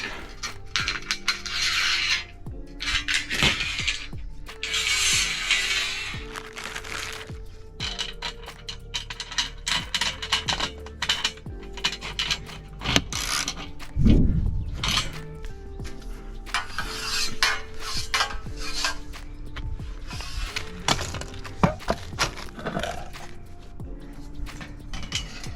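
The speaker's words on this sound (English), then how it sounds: "After installing all hooks, I'm starting to mount rails, and I'm using IronRidge XR10 version." IronRidge XR10 aluminium solar rails are handled and mounted onto roof hooks, with scattered metallic clanks, scrapes and rattles, plus one heavier thud midway, all close and without talk.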